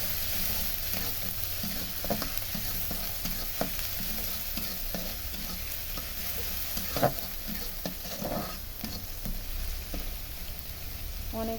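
Onion, garlic paste and chili spice mix sizzle steadily in a hot pan while being stirred, with repeated scraping and clinking of the spoon against the pan throughout.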